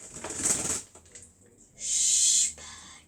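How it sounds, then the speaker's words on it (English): A bird flaps its wings nearby in the background, giving two short bursts of loud, breathy fluttering separated by a brief pause. "A bird's in the background."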